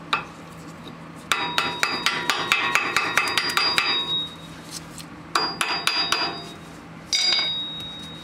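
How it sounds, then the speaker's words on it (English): Sharp metallic hammer taps bend a lock tab down over a nut on a 1994–97 Honda Accord steering rack, coming in quick rhythmic bursts of a dozen or so close, ringing strikes with short pauses between. "Bend the other end back, down over the nut,"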